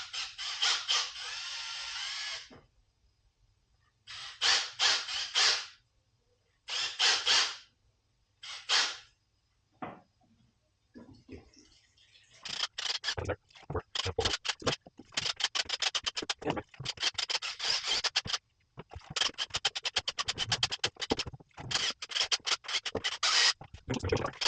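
Plaster mixed with about half a liter of water for garage walls, heard as several separate scraping, sloshing stirs, then a longer stretch of rapid, busy scratchy mixing, close and moderately loud.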